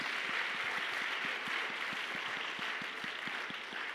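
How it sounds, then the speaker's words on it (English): A church congregation at a prophetic service claps along in a steady rhythm, a distant even beat of hand claps set against a constant wash of crowd noise and room hum. "clap your hand for Jesus."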